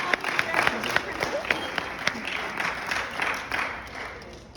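An audience applauds at a 2023 award presentation with a scattered, moderately dense clatter of hands, some sharp close claps standing out, while people murmur and talk over it.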